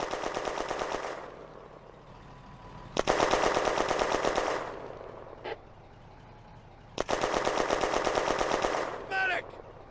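Machine gun suppressing fire from a French tank rings out in a WWII battle video game set in the Launois river valley in May 1940: three long, loud, rapid bursts separated by pauses, with a brief shot in between.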